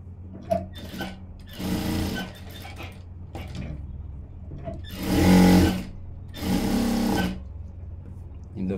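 Sewing machine running along a blouse edge in three short stitching bursts, the middle one loudest, with a voice talking between them and mechanical clicks in the pauses.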